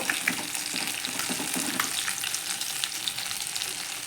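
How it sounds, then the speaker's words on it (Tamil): Boiled eggs fry in masala in a pan, giving a steady, close sizzle that runs the whole time with a few brief scraping stirs early on and no voices. "இப்போ முட்டையை நம்ம திருப்பி போடணும்"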